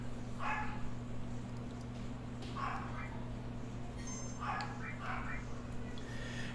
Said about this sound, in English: The dog is always barking.